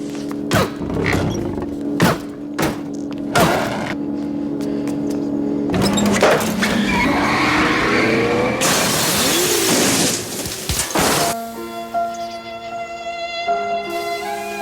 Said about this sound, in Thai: ใส่เกียร์ถอยหลังพุ่งออกจาก ห้องเก็บนะครับ ตกเหวไปเลยนะทะลุกระจกตกเหวไปเลย